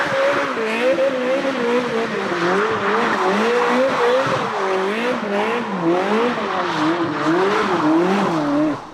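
Supercar engine in the Need for Speed racing video game, a loud sustained engine note rising and falling in wavering pitch with tire squeal layered over it, continuous throughout.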